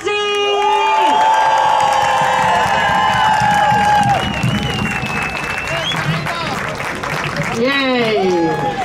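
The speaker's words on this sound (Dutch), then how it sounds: "mag ik een oorverdovend applaus voor Saïda Derazi!" Loud crowd applause and cheering at an outdoor demonstration on the Dam-Dokwerker square in Amsterdam, with whoops and shouts over steady clapping, lasting the whole stretch, and voices calling out within the roar.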